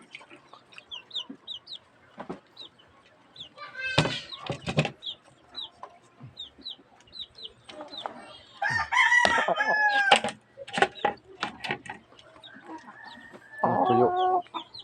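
Farm chickens, including a rooster, cluck and call near and far across a quiet yard, with short scattered clucks and a few louder, longer squawking bursts and faint crowing.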